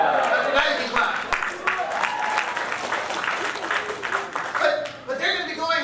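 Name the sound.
church audience clapping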